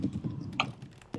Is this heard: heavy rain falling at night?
no